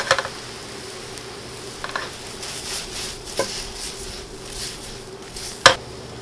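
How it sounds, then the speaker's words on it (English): Garlic, aromatics and mushrooms soften in a pan with a low, steady sizzle. Occasional utensil taps and clinks against the cookware cut through at close range. "I'm just going to saute this, soften it up"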